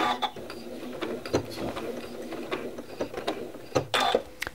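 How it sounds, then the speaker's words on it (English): A sewing machine stitches fabric, laying locking stitches in short, uneven bursts of rapid mechanical ticking and whirring, close by and with brief pauses between runs. "I'm going to lock my stitches first."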